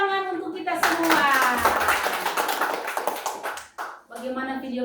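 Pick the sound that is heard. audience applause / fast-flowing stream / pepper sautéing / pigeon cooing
audience applause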